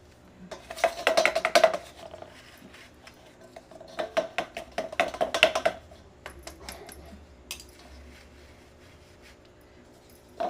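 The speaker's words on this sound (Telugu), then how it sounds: "దీన్ని జల్లి పట్టుకోవాలండి" Two bursts of rapid metallic rattling and tapping as ground roasted gram powder is shaken through a sieve over a bowl, separated by quieter clinks; no voices.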